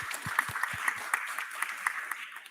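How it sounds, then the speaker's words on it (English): Scattered handclaps from a small audience at a higher-education policy dialogue, a few sharp claps spaced out over a couple of seconds, light and thin rather than a full ovation. "An applause, I would say, also for them."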